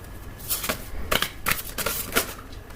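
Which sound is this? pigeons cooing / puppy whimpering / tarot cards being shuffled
tarot cards being shuffled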